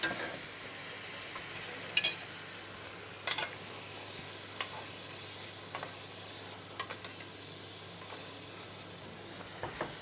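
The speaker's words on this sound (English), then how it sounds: "let's go ahead and baste it as well" A pork chop is basted in a hot pan, with a low steady sizzle broken by occasional sharp clinks of a spoon against the pan, and no talking.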